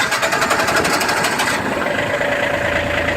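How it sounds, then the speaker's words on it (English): A steady engine idles continuously with a constant mechanical hum and fine rattle, its tone shifting slightly partway through; no voices. "So the generator's gonna idle for a little bit"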